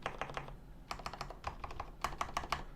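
Close, quiet typing on a custom G80-3000 HAV mechanical keyboard with lubricated stabilizers, with crisp key clacks landing in quick irregular bursts and short pauses between them.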